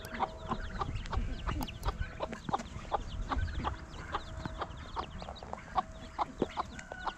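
A hen clucks repeatedly in short, clipped notes amid other fowl chatter and distant birds, moderately quiet and steady.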